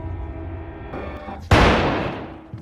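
A single loud blast cracks out midway and fades with a long reverberant tail over a steady low rumble.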